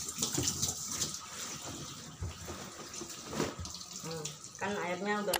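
Tap water gushes into a washing machine drum during a curtain wash, a steady hiss of running water with a person talking over it, and a clear splashing, bubbling fill rising near the end.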